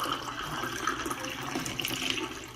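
Drink poured over crushed ice, a steady splashing, fizzing stream of liquid running continuously at close range, fairly loud with no talking.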